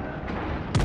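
Gneisenau battleship main guns fire in a World of Warships naval battle, a single loud booming salvo bursting out near the end over a steady low rumble of engine and sea.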